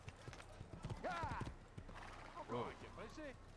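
Horse in an Assassin's Creed video game, rapid clip-clop of hooves with loud whinnies and neighs, close and clear, while someone talks in French over it.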